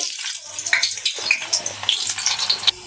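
Small potato pieces hiss and sizzle steadily in hot mustard oil in a pan, a bright crackling fry with faint low clatter underneath.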